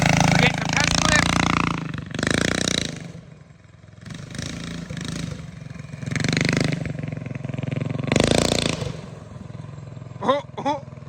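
Big Block Baja Warrior mini bike engine on a test ride, with loud bursts of revving and buzzing that rise and fall in several passes, near to mid distance, with voices talking over parts of it.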